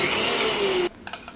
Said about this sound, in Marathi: चला घेते आता मिक्सरला फिरवून घ्या